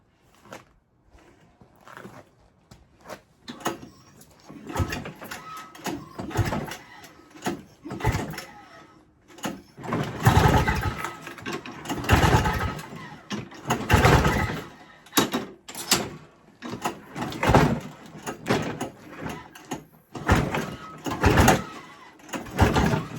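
A Toro R 141 snowblower engine with a new carburetor is cranked by hand to start, giving repeated rasping pull-start bursts and mechanical clatter up close, with pauses between pulls.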